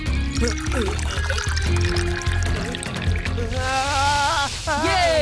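Water poured in the Gattu Battu wall climber cartoon, a splashing pour heard under lively voices and background music, with cartoon sound effects rising near the end.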